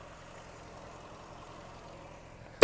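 A 2008 Volkswagen Golf 5 with a 1.6 MPI engine idles quietly with a low, smooth, even rumble, ending in an abrupt loud burst at the very end.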